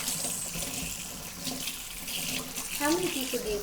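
Cold water streams from a kitchen faucet over a big whole turkey in the sink, a steady hiss and splatter throughout, with a brief voice heard near the end.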